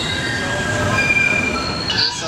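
MBTA Green Line trolley grinding along the rails, steel wheels squealing in sustained high-pitched tones over a low rumble, heard close from nearby, with a sharper squeal near the end.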